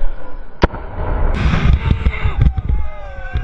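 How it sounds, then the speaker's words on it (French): A GLI-F4 grenade holding 25 grams of TNT detonates at a protest with a sharp, loud bang, followed by seconds of dense crackling and thudding noise. "Son explosion produit une déflagration très dangereuse."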